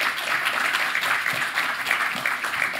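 Warm applause from a summit audience greeting a presenter, many hands clapping in a steady, textured stream for a few seconds.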